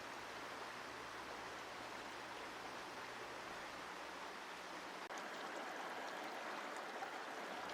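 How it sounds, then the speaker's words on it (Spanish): Small mountain stream in Gatlinburg in the Great Smoky Mountains flowing steadily over rocks, a constant broadband rush heard close and alone, with a low background hum fading out midway. "Este riachuelo aquí en Gatlinburg me llamó apenas llegué"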